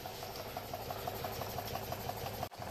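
A small gamma-configuration Stirling engine drives a generator, giving a steady, fast mechanical chatter with regular rhythmic ticking at close range. It runs continuously until a brief knock near the end.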